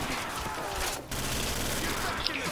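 Steady automatic gunfire from a zombies-mode shooter game on a custom map called Compound, a dense continuous rattle with a brief break partway through and voices talking over it.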